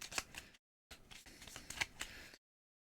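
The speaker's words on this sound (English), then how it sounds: "Oh, I'm shuffling." Playing cards riffled and bridged at a tabletop during a board game session, two quick crisp bursts of papery flutter close to the microphone, separated by a short silence.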